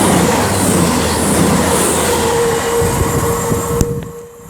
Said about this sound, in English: now about to pass by is going to be two cross-country Voyagers / Super Voyagers